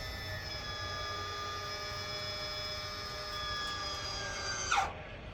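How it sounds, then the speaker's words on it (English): An electric motor whines steadily while lowering a stack of test sieves on a calibration shaker, a sustained tonal hum with faint high overtones that ends in a brief rising squeal near the close. "I'm just pressing and holding the button until the motor stops whining"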